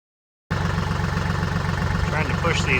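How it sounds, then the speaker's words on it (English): A tractor engine idles with a low, throbbing diesel rumble, pressing down warped boards on a flatbed trailer frame; it starts abruptly after a brief silence and runs loud and close, with a voice speaking faintly over it near the end. "I use a tractor to push down the twisted boards as I screwed them in."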